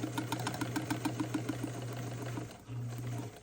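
A sewing machine runs a back stitch, its quick rhythmic needle clatter buzzing steadily at close range, pausing briefly and then starting again.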